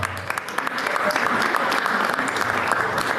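Audience applause fills the room in a dense, steady wash of many hands clapping, rising after a brief start and holding loud throughout.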